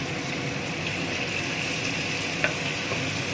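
Water is poured into a mutton curry cooking in a clay pot, giving a steady hiss and bubbling sizzle with a single brief clink partway through, close up and with no voices.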